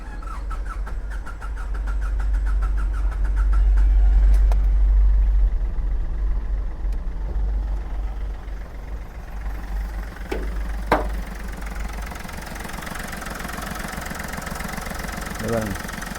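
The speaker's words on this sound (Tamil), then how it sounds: "டீசல் ரெண்டு போட்டு வண்டி ஸ்டார்ட் பண்ணி காட்டுற மட்டும் பாருங்கள்." A 2012 Chevrolet Beat diesel car engine idles with a steady low rumble, loudest early on and then settling, with a couple of brief knocks and clicks near the end.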